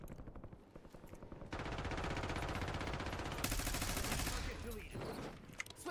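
Rapid automatic gunfire in Call of Duty: Warzone crackles in sustained bursts, a dense stream of rattling shots at moderate loudness that runs for several seconds amid other battle noise.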